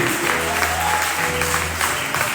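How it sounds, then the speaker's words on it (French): A church congregation at a worship service applauds loudly, with dense, steady clapping from many hands close by and a low murmur of voices underneath. "Acclame très fort pour le Seigneur."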